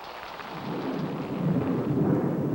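A thunderstorm with rolling thunder and steady rain, the kind that can bring hail, builds in a continuous low rumble over a rain wash. It grows slightly louder toward the end, and no voices are heard.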